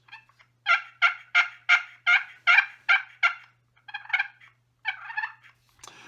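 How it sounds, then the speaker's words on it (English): A push pin yelper friction turkey call is worked by hand to produce a series of about a dozen loud, close, raspy yelps. They come in an even rhythmic run, pause briefly, then continue in shorter groups, with no voices. "So I have one of these little push pin yelpers."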